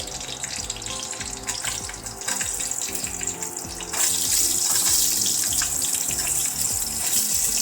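Carrots drop into hot desi ghee in a pressure cooker for gajar halwa, giving a steady frying sizzle that swells louder midway and then holds as a dense, bright hiss close to the listener.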